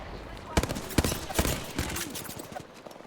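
Gunfire in an online shooter game: a few sharp, loud shots spaced through the moment, with a scattered, irregular rhythm and a busy noisy game backdrop behind them.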